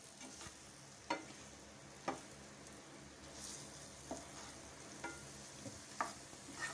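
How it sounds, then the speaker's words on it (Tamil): Eggs being stirred and tossed in a frying pan for spicy egg gravy, a soft continuous sizzle with periodic sharp scraping knocks of a spoon against the pan, roughly once a second. "முட்டையை நல்லா பிரட்டிக்கணும்"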